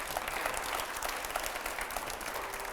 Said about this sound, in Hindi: पहले जोरदार तालियां